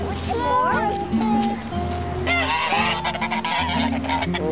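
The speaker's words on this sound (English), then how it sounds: "Amanda, get to the goose" Goose honking repeatedly and loudly at close range in a park, mixed with overlapping voices of people talking nearby.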